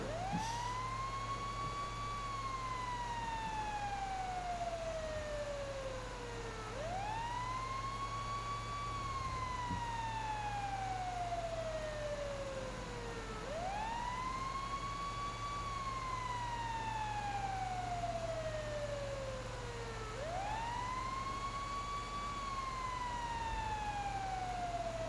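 A fire engine siren in a roleplay video game wails steadily in long rising and falling sweeps, repeating about every seven seconds over a constant low engine drone, loud and continuous with no talk.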